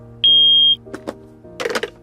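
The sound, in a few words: hearing test beep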